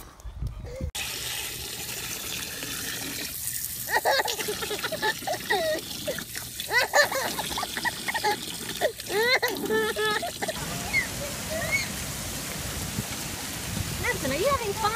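Steady water splashing and sloshing as a baby plays with water outdoors, continuous and fairly close, with bright droplet and pouring textures throughout and scattered voices mixed in.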